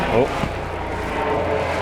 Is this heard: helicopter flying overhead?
yes